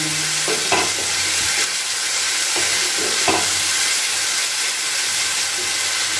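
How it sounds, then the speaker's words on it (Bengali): A spice masala with chopped cauliflower and egg is stirred and sautéed in a pan, giving a loud continuous sizzle and hiss with occasional scraping strokes of the spoon, heard up close without speech. "আবার একটু নাড়াচাড়া করে নিচ্ছি"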